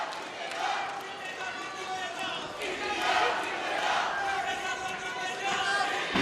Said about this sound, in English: You can hear the Indians in the crowd